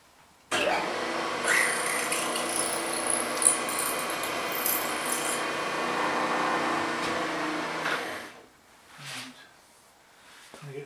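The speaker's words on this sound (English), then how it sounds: "I'll drill the other hole out to 6 first" A milling machine drills a hole out to 6 mm, a steady, broadband whirring and grinding that runs for about seven and a half seconds, then cuts off, leaving a few faint thumps and clicks.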